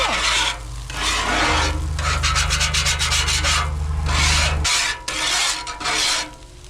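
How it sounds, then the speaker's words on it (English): A metal scraper grinds steadily across a Blackstone flat-top griddle, giving loud, close, continuous rasping strokes that pause briefly near the end. A low hum runs underneath through most of the scraping. "I'm not scraping hard, so I really don't think I totally ruined the surface"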